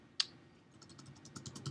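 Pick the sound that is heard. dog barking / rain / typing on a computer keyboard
typing on a computer keyboard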